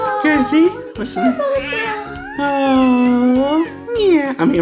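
A voice imitates a cat, drawing out two long sung meows between bits of playful talk, close and fairly loud.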